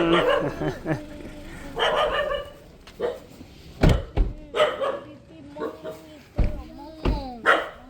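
Dog barking in a string of close, sharp barks and yelps mixed with people talking nearby, the barks loudest toward the second half.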